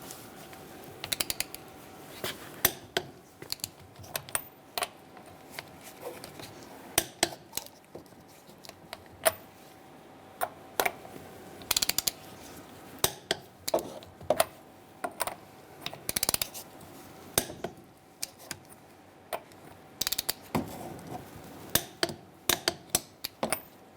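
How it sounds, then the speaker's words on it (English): A click-type torque wrench with a 19mm socket tightening the wheel lug nuts on a 1998-2011 Ford Ranger, giving a long run of sharp ratcheting clicks and snaps repeated irregularly over a quiet background. "we're going to torque our wheel to 100 foot-pounds using a 19mm socket, and we're going to do it in a star-like pattern"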